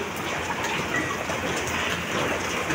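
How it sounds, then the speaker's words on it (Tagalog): Heavy rain pours down in a steady, dense, loud roar with no breaks, close by and unaccompanied by speech. "At ayan, lumakas na nga ang ulan."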